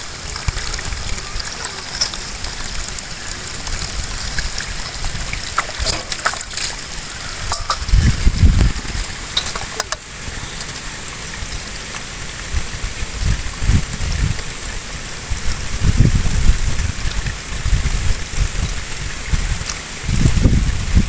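Mutton pieces are washed by hand in water for a traditional Tamil mutton kuzhambu. Steady trickling and sloshing is broken by louder, low splashing bursts, close by and with no talk.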